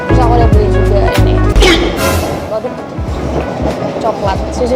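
A passenger train rumbles along with loud low droning, rhythmic clickety-clack and occasional bursts of hiss, heard from inside a carriage on a trip in the Yogyakarta area; a few background voices.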